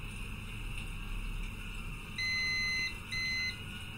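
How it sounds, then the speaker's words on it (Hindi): A multimeter in continuity mode beeps twice while testing a shorted capacitor. A longer tone is followed by a shorter one, both steady and high over a constant electrical hum. "देखो कैपेसिटर बीप दे रहा है"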